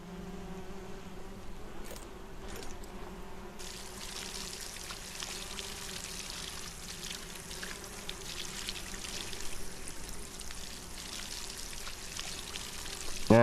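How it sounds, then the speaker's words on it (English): Steady watering spray in the SolarPunk video game as a small garden is watered, a continuous hiss of pouring water that holds at an even level throughout, with no talking over it. "And we'll just water the little garden over here."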